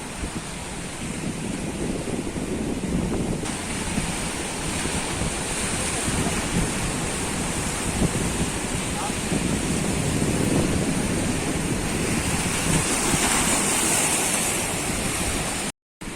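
Rough monsoon sea surf churning continuously on the Konkan coast, a loud broadband roar of crashing waves with wind buffeting the microphone throughout.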